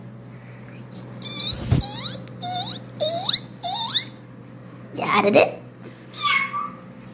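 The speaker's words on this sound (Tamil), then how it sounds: "பூனைக்குட்டியா?" Kitten meowing in short high rising cries, four quick calls close together, then a longer mewl and a fainter one, over a steady low hum with a person briefly speaking.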